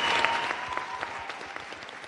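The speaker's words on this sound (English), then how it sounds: "Big round of applause." An audience applauds after a presentation at a live pitch event, a short burst of close clapping that gradually tapers off.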